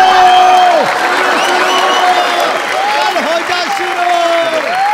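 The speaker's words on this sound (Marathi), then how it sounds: "एकदा जोरदार टाळ्या" An audience at a comedy stage show claps steadily and loudly throughout, a dense wash of applause with tonal sounds over it.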